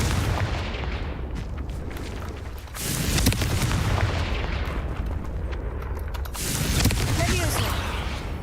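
A Confringo fire spell explodes in Hogwarts Legacy: two heavy, booming blasts land a few seconds apart, each swelling into a broad rumbling roar over a constant loud din.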